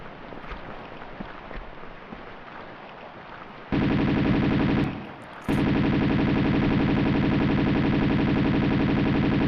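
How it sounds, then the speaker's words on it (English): Sustained enemy gunfire from the video game Tomb Raider 2, loud and dense, starting abruptly after a quieter stretch, breaking off briefly, then continuing steadily to the end. "They can shoot at you from down below."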